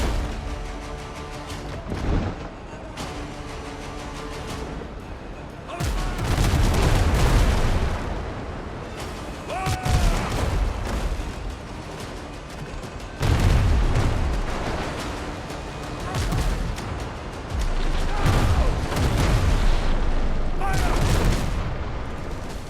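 Ship cannons firing in the naval game Windrose, repeated heavy booms and crashing blasts in bursts, loud and close, with a voice talking at times between the volleys.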